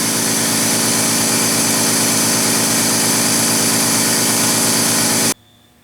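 An air compressor in a workshop runs loudly and steadily with a droning motor and a rapid rhythmic pumping pulse, yet builds no pressure, then cuts off abruptly, leaving near silence.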